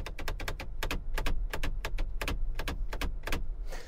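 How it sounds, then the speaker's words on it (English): The drive mode selector on a Lamborghini Urus clicks sharply and repeatedly as it is moved, giving a rapid, uneven series of close, distinct ratcheting clicks over a low cabin hum. "we have a drive mode selector, which makes an unpleasant clicking noise when you move it around"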